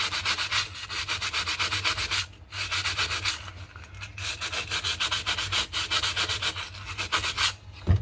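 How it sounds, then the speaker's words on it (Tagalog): Rapid back-and-forth strokes of 320 grit sandpaper scrape over a broken aluminium alloy firearm frame, a dense rhythmic rasping that pauses briefly twice before resuming, close and loud with no talking. "Kuha lang tayo ng 320 na liha"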